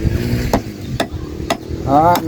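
A sign for a Thai forest-robe merit-making ceremony being hammered into place outdoors: four sharp, close impacts spaced roughly half a second apart, with a brief voice near the end.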